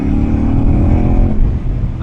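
A loud motorcycle engine revs and accelerates at full throttle up close on a wet road, a steady throaty roar with road noise hissing underneath.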